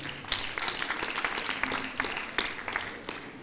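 Annual conference audience applauding after a speech, a moderate, steady patter of clapping from a hall, somewhat distant, with no speech over it.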